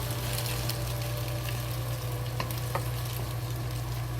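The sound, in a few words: eggs with scallions frying in a pan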